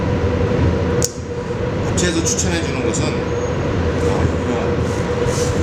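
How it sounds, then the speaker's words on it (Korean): A subway train rumbles nearby as a steady, loud low roar with faint metallic squeals above it, continuing under a person speaking throughout. "여기가 지하철이 다니기 때문에 되게 시끄러워요."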